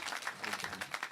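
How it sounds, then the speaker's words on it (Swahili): A crowd at a funeral service in Nyandarua gives a brief, faint round of applause for a senator, with continuous clapping heard from a distance. "Makofi ya Mheshimiwa Senator."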